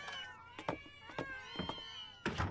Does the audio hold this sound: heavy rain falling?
no